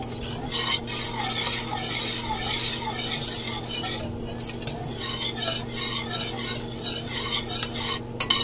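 Thick mandarin orange sauce made with orange juice boiling on low heat, a continuous bubbling sizzle with repeated scraping and stirring of a utensil against the pot, close up and without talk.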